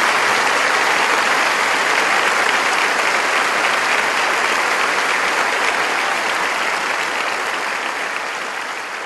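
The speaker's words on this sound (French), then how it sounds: "ce Dieu qui mérite un fort applaudissement" A church congregation at a Bible study meeting claps together in dense, sustained applause that fills the room evenly and eases off slightly toward the end.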